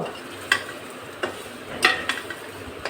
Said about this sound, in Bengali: এই যে সুন্দর করে নাড়ায় চাড়ায়, বেশি নাড়ানো চাড়ানো লাগবে না।